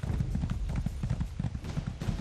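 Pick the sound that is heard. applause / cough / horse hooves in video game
horse hooves in video game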